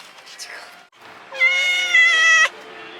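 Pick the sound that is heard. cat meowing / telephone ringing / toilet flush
cat meowing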